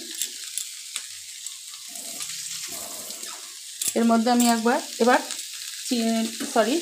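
Banana stem and potato stir-fried together in a pan, with sizzling and stirring heard up close, interrupted in the second half by someone talking over the cooking.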